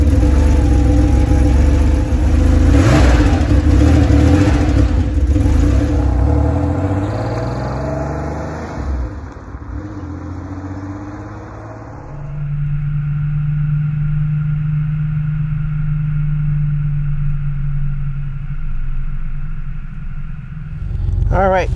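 A Porsche 911 engine revs up while driving, with a rising mid-pitched growl that settles into a steady cruising drone, and someone talks over it throughout.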